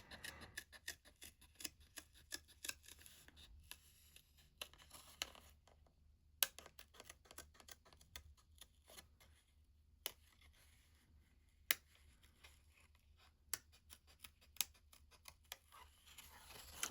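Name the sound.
cutting out paper with Pergamano scissors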